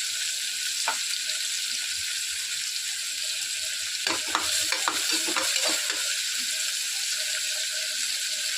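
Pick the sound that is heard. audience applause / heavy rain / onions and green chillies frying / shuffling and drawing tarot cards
onions and green chillies frying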